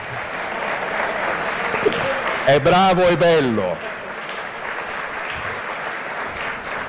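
Audience at a Lega youth party rally claps under someone speaking into a microphone, with a short burst of amplified sound in the middle and the applause continuing as a steady background.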